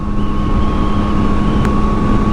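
A Yamaha MT-09 SP motorcycle ridden at speed, its steady loud engine drone mixed with heavy wind rush, with no talk.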